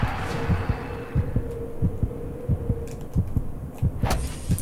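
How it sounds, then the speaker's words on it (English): Heartbeat sound effect from the golf game Tiger Woods PGA Tour 2004, a loud close double thump repeating in a steady rhythm over a low hum, ending with a brief bright chime. "I really don't want to see the heartbeat yet again"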